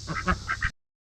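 Ducks on a farm quacking in a brief noisy burst of several overlapping nasal calls close by, cut off abruptly.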